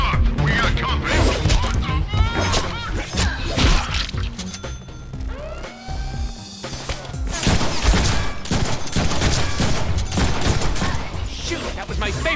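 Gunfire rattles through a Deadpool video game level in dense, loud bursts, mixed with mechanical clanks, crashes and game music. Character voices speak over the shooting.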